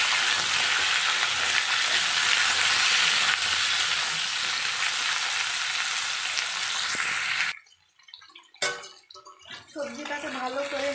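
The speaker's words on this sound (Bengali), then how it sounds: "সবজিগুলো দেওয়ার পর ভালো করে নেড়ে চেড়ে সিদ্ধ করে নিতে হবে সবজিগুলো।" Vegetables for Bengali sukto sizzle and fry in a pan, a loud steady hiss with stirring, then the sound drops away into quieter clinks and movement, and a voice speaks near the end.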